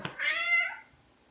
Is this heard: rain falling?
no